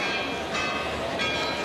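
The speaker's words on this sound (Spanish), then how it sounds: "las campanas, como pueden ustedes comprobar, no dejan de sonar" Church bells ringing continuously during the Bajada festival procession in Valverde, El Hierro, a dense metallic clangor filling the air outdoors, with a crowd murmuring underneath.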